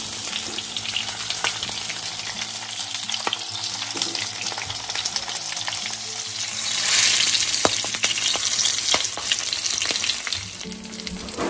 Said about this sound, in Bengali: এপিট ওপিট করে ভেজে তুলব।